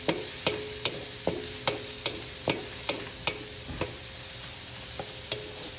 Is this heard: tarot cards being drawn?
no